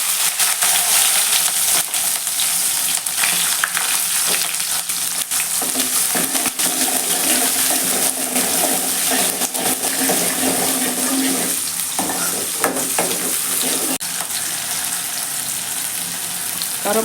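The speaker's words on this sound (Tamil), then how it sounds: "இப்போ வெங்காயம் சேர்க்குறேன்." Chopped onions go into hot oil already crackling with mustard seeds and cumin in a pan for Tamil onion vatha kulambu, giving a steady, loud sizzle and hiss that runs throughout with occasional stirring scrapes.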